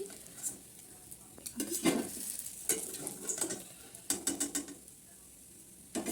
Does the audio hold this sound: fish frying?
yes